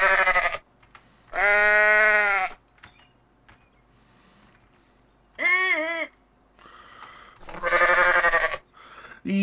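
Goats bleat in the Goat Simulator video game, loud wavering cries in four separate bursts with quiet gaps between them.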